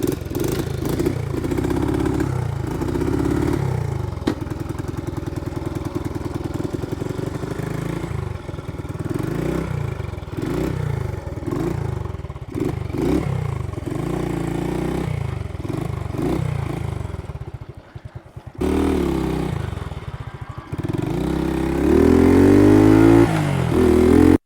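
A Cushman engine cranks over, catches and keeps running with a steady, throbbing chug, rising and falling with throttle changes and revving harder near the end, loud and close with no talk.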